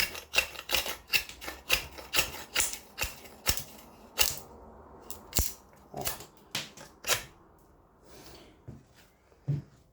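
A hand tool shaving and planing a surface, heard as a series of sharp scraping strokes in an uneven rhythm, close and distinct, growing sparser and softer toward the end, with no talking.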